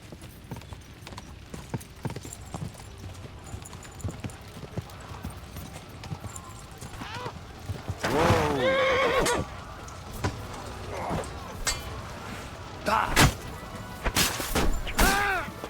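In the video game Kingdom Come Deliverance 2, a horse's hooves clip-clop steadily while loud whinnying neighs break out in the second half, mixed with occasional impact thuds.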